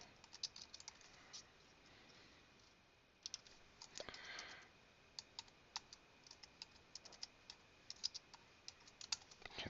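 Quiet computer keyboard typing in short bursts of light clicks, with a pause and a brief rustle midway before the tapping resumes at an irregular pace.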